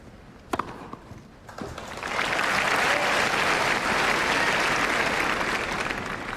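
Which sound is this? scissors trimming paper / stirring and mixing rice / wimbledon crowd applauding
wimbledon crowd applauding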